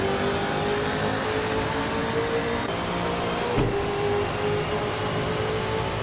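A 2019 Ford Mustang V8 engine drones steadily in a racing video game, a constant mid-pitched hum with a brief dip and a thump partway through, no talk.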